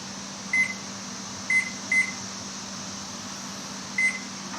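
While a timer is set for 55 minutes to bake banana bread, a kitchen oven gives four short, clear electronic beeps at uneven intervals over a low, constant appliance hum.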